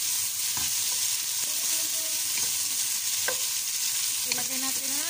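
Garlic and onion sautéing in a pan, a steady close sizzle with occasional spatula scrapes and stirring clinks, continuous and fairly loud, no voices.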